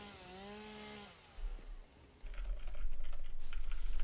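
Chainsaw in the Satisfactory video game, a brief tonal whine followed by a low buzzing engine drone that cuts out and returns louder and steadier, close up, with no talk.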